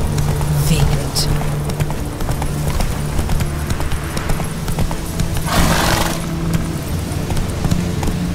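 Horse hooves clip-clopping at a brisk pace with a whinny breaking through, close and loud, while a voice calls out over the hoofbeats.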